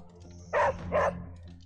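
A dog in the video game Midnight Suns gives two short, loud barks in quick succession, each clear and close, over a quiet low background hum.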